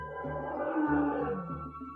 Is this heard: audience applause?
no